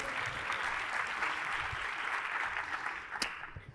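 Audience applause at a SXSW 2023 talk on future trends, a steady dense wash of clapping across the room that holds throughout and ends with one sharper burst near the close.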